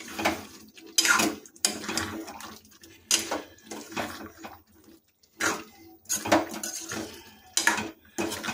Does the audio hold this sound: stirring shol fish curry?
yes